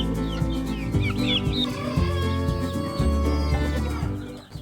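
Young chickens cluck and peep steadily in a coop with fresh bedding, a busy overlapping chorus of close calls that runs continuously throughout.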